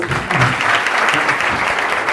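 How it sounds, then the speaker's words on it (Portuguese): Dense, loud applause from an audience at a hypnosis lecture, a brief continuous wash of clapping with faint voices underneath. "Palmas para o Marconi mais uma vez."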